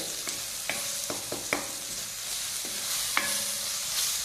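Soft tomatoes for a Kerala-style egg roast sauté in an open pan, a steady soft sizzle punctuated by repeated scraping taps of a spoon stirring, fairly quiet and close with no voices.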